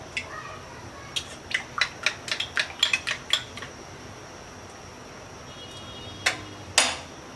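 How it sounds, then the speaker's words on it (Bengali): A fork beats egg in a bowl, producing a quick run of about ten sharp, close metallic taps, then a pause and two or three more clinks. "এবার ডিমটা আবার একটু ফেটিয়ে নিচ্ছি"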